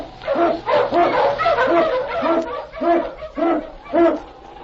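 An Eskimo lead sled dog barks and yips in a rapid rhythmic series of about eight close, loud barks with short gaps between them, with no talk.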